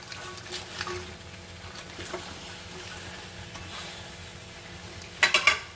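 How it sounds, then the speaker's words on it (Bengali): Thick-cut onions hit hot mustard oil in a pan for mutton curry, a continuous moderate sizzle with light stirring, ending in a few sharp metallic clinks of utensil on the pan. "এখানে আমি দিয়ে দিলাম পেঁয়াজটা"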